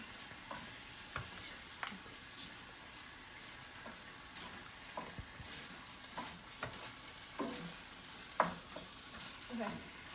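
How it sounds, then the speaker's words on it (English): Ginger and garlic paste frying for a curry, heard as a quiet sizzle under repeated spoon scrapes and clicks against the pan, with faint voices in the background. "now I'm just gonna take my ginger paste and garlic paste into the thing"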